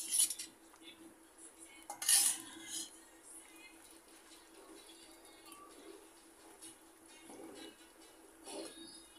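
A metal spoon scrapes and clinks against a pot while beef is stirred into spices and partly cooked lentils for beef tehari, with clattering bursts near the start and softer scraping after, up close.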